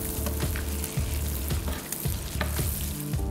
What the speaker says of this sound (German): Jetzt lassen wir ihn schön langsam in der Butter schwimmen und geben immer wieder was von der Butter oben drüber.